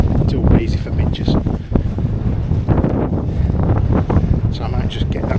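Strong, gusty wind buffets the microphone on High Stones in the Peak District, loud and close with surging roars and brief lulls, while someone talks over it.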